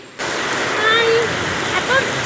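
Summer rain mixed with small round hailstones drums on a sheet roof in a steady, close, dense hiss that never lets up, with faint voices and whistly tones in the background.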